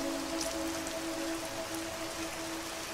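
Rain falls in a steady, even hiss of drops on surfaces, with faint tonal music beneath it.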